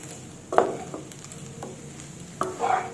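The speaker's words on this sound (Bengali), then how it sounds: "এবার আরেকটু ভালোভাবে নাড়িয়ে নেব।" Cluster bean curry being stirred in a pan with a spoon, giving a few distinct scraping strokes over a faint, steady sizzle.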